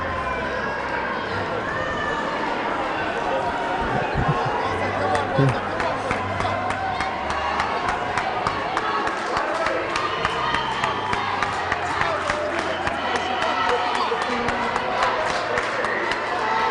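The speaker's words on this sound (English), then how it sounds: "Lots of noise from the crowd" Crowd noise at an indoor cricket match, a South Africa versus Australia over-40s gold final, a continuous roar of many voices with shouts and rapid footfalls, commentators talking over it throughout.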